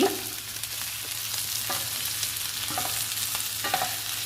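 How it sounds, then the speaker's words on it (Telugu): Pieces of ivy gourd (tindora) fry in a pan with a steady, close sizzle, with occasional stirring scrapes and clinks. No voices. "దొండకాయ ముక్కల్ని బాగా ఫ్రై చేసుకోవాలి, అప్పుడే బాగుంటుందండి దొండకాయ ఫ్రై"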